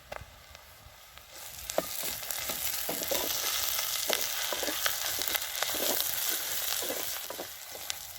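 Ginger-garlic paste goes into browned onions in oil for budama kaya curry. After a quieter start, the sizzle jumps to a loud, dense crackle that continues steadily, with small spitting pops throughout.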